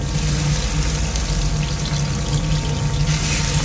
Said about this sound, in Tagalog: Lagyan natin yung mushroom